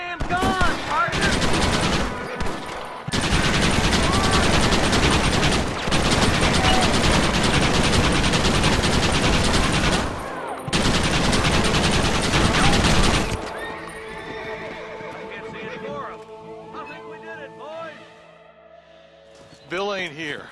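Rapid, loud gunfire in Red Dead Redemption, long dense volleys with brief pauses, then fading into quieter scattered shots and ambient sound as a voice talks.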